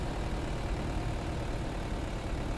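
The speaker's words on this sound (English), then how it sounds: "that's quite a loud engine" A loud Mercedes G-Wagon engine in the Car Dealer Simulator video game runs steadily, with a dense, even roar that fills the whole clip and no voices over it.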